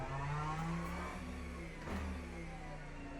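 A race car in Le Mans Ultimate on the Algarve Portimão circuit braking hard and downshifting to first gear, its engine droning loud and steady with falling, stepping pitch as the gears drop.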